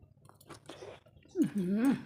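Someone chews a mouthful of bamboo shoot curry at close range, soft wet bites under quiet speech that rises into a louder voice toward the end.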